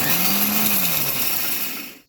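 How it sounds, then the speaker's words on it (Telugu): A kitchen mixer grinder whirring at full speed as it grinds dried jowar into coarse semolina, a loud close steady whine that winds down and cuts off at the end. "ఆరబెట్టిన జొన్నల్ని మిక్సీ పట్టుకుందామండి."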